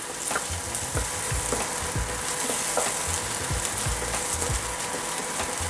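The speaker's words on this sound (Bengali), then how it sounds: "পেঁয়াজটা নরম হওয়া পর্যন্ত আমি এইভাবে একটু ভেজে নেব তেলের মধ্যে।" Onions fry in hot oil until soft, a continuous close sizzle broken by repeated scraping, stirring strokes of a utensil against the pan.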